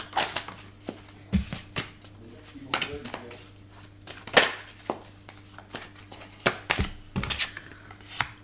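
Tarot cards slapped and laid down one after another on a table, with sharp irregular taps and soft shuffling between them, under a low steady hum.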